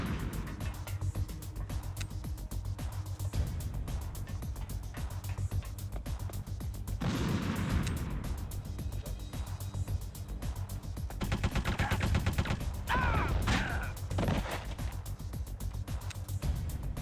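Rapid gunfire in the survival horror game Resident Evil 2, loud and continuous with sharp bursts over a dense game soundscape, heavier volleys later, no talking.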